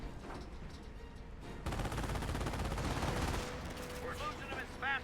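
Tank and machine gun fire in Company of Heroes break out as a burst of dense rattling gunfire and booms, with quieter shots before and after and some whistling effects near the end.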